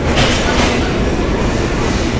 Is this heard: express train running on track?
yes